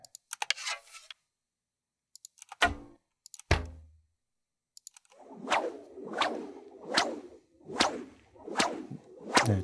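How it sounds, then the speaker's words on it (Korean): A rope whipping sound effect: after a few sharp isolated cracks, a rope swings through the air in six rhythmic, evenly spaced whooshes, close and clean against silence. "줄이 이렇게 막 휙휙 하는 소리입니다."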